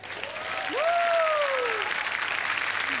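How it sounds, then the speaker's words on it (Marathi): Studio audience on the Marathi TV comedy show Chala Hawa Yeu Dya applauds in a sustained crowd clap, with a brief whistle-like tone rising and falling over it. "दादांसाठी टाळ्या."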